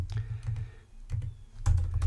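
Rapid typing on a computer keyboard while entering code, the keystrokes coming in uneven clusters with brief pauses between bursts, close and clear with no talking.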